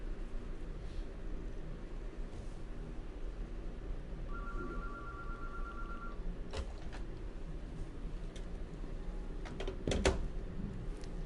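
A telephone call placed to a remote participant connecting over a faint steady hum, with a brief electronic dialing tone, a couple of clicks, and a sharp burst near the end.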